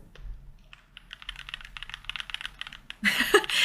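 Rapid typing on a custom-built computer keyboard produces a dense run of clicky keystrokes, up close, ending in a louder burst of noise.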